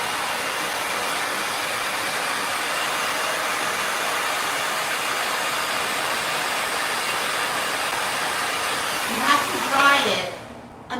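A hair dryer blows continuously and loudly as a steady airy roar, then cuts off near the end, with a brief voice-like sound just before it stops.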